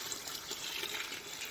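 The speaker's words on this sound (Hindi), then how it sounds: "इस तरह से पानी इसमें ऐड कर देंगे" Water poured steadily into a cooking pot with rice for chicken pulao, a soft continuous splashing and trickling rush, fairly quiet and heard alone.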